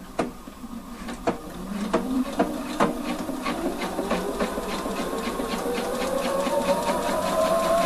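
Sewing machine stitching a menswear bust welt pocket, a steady run of close mechanical needle clatter that gradually picks up speed, with a few sharper knocks near the start and no talk.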